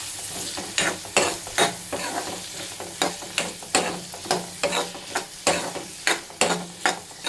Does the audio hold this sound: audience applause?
no